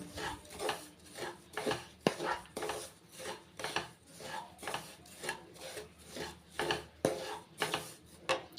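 Rhythmic scraping and rubbing as ghee-fried cashews and raisins are mixed into a coconut rava laddu mixture, steady repeated strokes of a utensil against a vessel, close and fairly quiet.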